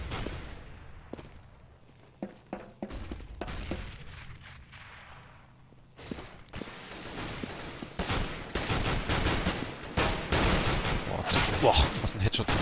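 Bursts of gunfire from a Counter-Strike match on the Nuke map, sparse single shots and short volleys at first, then dense, loud, continuous firing in the second half, with a commentator's voice underneath.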